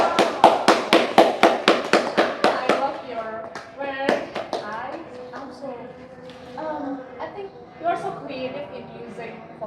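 Classroom clapping breaks out, a quick run of sharp, evenly spaced claps lasting a few seconds, then fades as children and a teacher talk and chatter over it.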